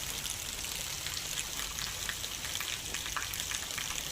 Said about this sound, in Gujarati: વેરાવળ શહેર તથા ગ્રામ્ય પંથકમાં વહેલી સવારે ધીમે ધારે વરસાદની શરૂઆત થઈ।